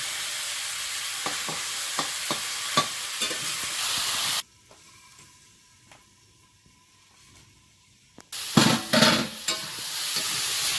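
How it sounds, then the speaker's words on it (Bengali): Taro fries in a pan with spices, garlic and tomato while a spatula stirs it, making crisp sizzling and scraping sounds. The sizzling drops to near silence for several seconds in the middle, then loud stirring and frying resumes. "কচুটা একদম লাল লাল করে ভেজে নিয়েছি"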